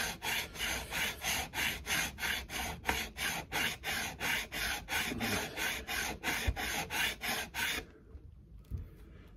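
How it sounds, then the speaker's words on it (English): Frets on a Samick LK-15 BS guitar filed down with a metal fret file, heard as close, regular back-and-forth rasping strokes that stop abruptly near the end, with no talking. "They're all being fret filed down."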